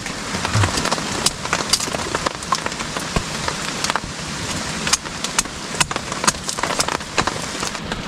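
Heavy rain pours down in a forest during a storm, a dense continuous patter with sharp drops striking close surfaces like a tarp, steady and loud throughout.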